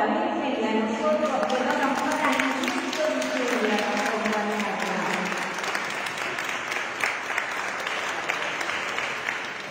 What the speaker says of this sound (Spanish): Oh María, sin pecado concebida, un aplauso a la Virgen y a nosotros.